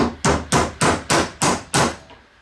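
Seven evenly spaced, ringing metal hammer blows driving a vehicle U-joint back into its yoke, loud and close, each strike decaying before the next, with no talk.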